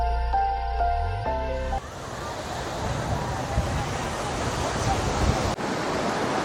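Ocean waves wash against the coast beside a seaside terrace in Mogadishu: a constant, full surf roar mixed with wind buffeting the microphone, heard after a short burst of tonal music at the start.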